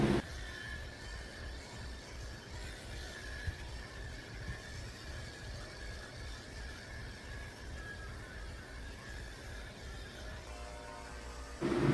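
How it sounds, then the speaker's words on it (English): Electric dog clippers with a number 10 blade shave a poodle, a steady low buzzing hum running evenly and close throughout, with a faint rustle at the end. "I'm shaving the base of his tail with a 10 blade."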